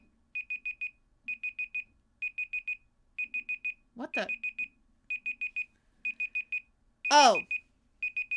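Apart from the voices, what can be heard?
timer alarm going off during a stream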